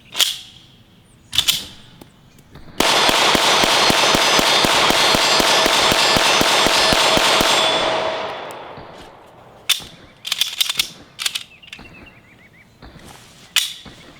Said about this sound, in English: This is going to be a mag dump situation.